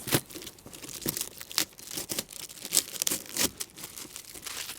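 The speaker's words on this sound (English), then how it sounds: "You're going to need to take that tape off." Packing tape is torn and peeled off the bottom of a cardboard box in bursts of ripping and crinkling, close and fairly quiet, with no talk.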